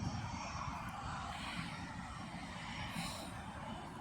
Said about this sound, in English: the Ryanair 737 is about to do a nice thrash out from Birmingham Airport